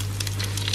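Bread slices frying in a pan, a steady close sizzle and crackle with a low constant hum underneath.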